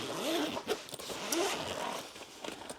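A bag's zipper is pulled back and forth in a few quick, close strokes, each a short rasping zip with light rustling between.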